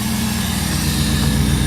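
A 2001 Jeep WJ engine runs steadily at idle, close by, with a low even drone and air drawn through vents in the hood, with no talk.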